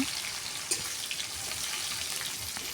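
Chopped onions frying in a pan with whole cumin seeds and a bay leaf, a steady close sizzle and crackle with faint stirring scrapes, alone without voices.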